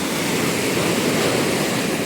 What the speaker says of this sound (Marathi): मोठ्या मोठ्या लाटा असतात